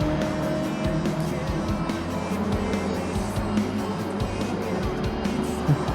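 Japanese front-engine, rear-drive van tuned to 750 horsepower racing in Gran Turismo 7, its engine droning steadily close up with brief tire squeals over the continuous roar.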